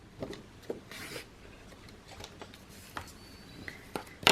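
Paper creased into folds for a December Daily album, heard as several short scraping and rubbing strokes close up, with a sharper crackle at the end.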